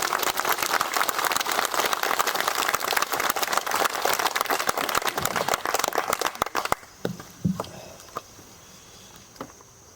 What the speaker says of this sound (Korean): 힘찬 박수로 신부님 맞아주십니다